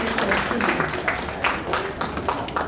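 Group applause from an audience cheering people who completed challenges at a gathering, a dense steady patter of many hands clapping close by, with voices mixed in.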